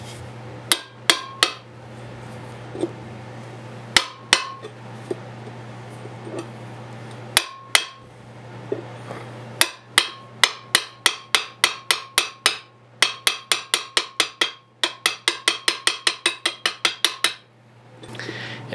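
A hammer strikes a rivet holding the lanyard tube on a forged 5160 steel short sword with sharp metallic blows, spaced apart at first, then settling into quick, even runs of ringing taps over a low steady hum.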